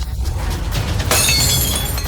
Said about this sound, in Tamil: அது தரையில் விழுந்து சுக்குநூறாக உடைந்தது